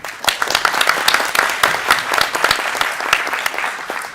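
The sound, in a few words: audience applause after conference speakers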